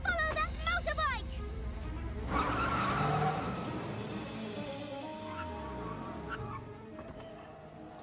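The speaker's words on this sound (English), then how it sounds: "Follow that motorbike!" Tires skid and squeal in a cartoon motorbike chase, a rising screech with engine noise, partly under voices talking.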